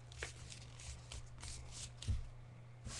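Soft rustling and creasing of paper being folded by hand into an origami box, quiet and close with a few slightly sharper crinkles.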